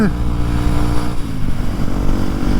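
A Harley-Davidson motorcycle engine idles and rumbles steadily nearby, a loud, dense low throb running throughout without a break.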